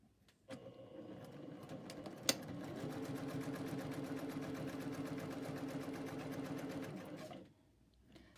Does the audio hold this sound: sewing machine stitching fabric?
yes